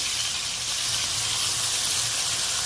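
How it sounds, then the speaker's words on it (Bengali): Pieces of bhetki fish fry in hot oil in a pan until reddish, giving a steady, bright, close sizzle with no talking. "এইভাবে সব মাছগুলোকে লাল লাল করে ভেজে নেবে"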